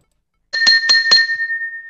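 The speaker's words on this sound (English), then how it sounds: "He's dinging the glass." Three quick clinks on a glass used as a game-show buzzer, then a clear ringing tone that lingers and fades.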